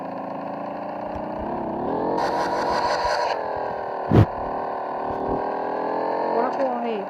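A motorcycle engine in a video game hums and revs at mid pitch, rising and falling in tone, while a person talks over it and a short sharp knock sounds midway.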